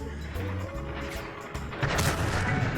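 Tank cannon fire in the online game World of Tanks, several loud booming shots and impacts in a dense, chaotic battle mix with a heavier blast near the end.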